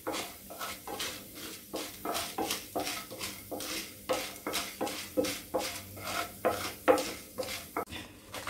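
A piece of asafoetida is roasted with other ingredients in a pan, giving steady, rhythmic scraping and stirring strokes about twice a second, dry and close, with light wooden and metal clatter and no voices.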